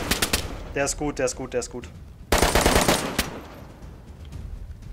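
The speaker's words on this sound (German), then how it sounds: "Schüsse von rechts, hier draußen." Rapid bursts of gunfire in DayZ crack out in clusters, with a dense volley midway, while someone speaks briefly in German between shots.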